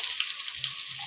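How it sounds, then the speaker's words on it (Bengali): Potato pieces frying in a pan with a little chilli powder for a wedding-style mutton curry, a close, even sizzle with soft crackling and faint stirring. "আলুটা ভেজে নিতে হবে"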